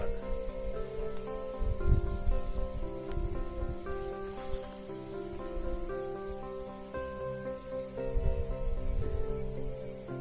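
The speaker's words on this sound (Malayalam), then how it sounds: "ഇവിടെ മുഴുവൻ ഇങ്ങനെ കിരി കിരി കിരി കിരി സൗണ്ട് ഉണ്ടായിക്കൊണ്ട് ഈ ചീവീടുകളുണ്ട് കേട്ടോ" Cicadas on Ambanad Hill in Kollam keep up a continuous shrill buzzing chorus in the shady hill forest, steady and fairly loud throughout with faint rustling underneath.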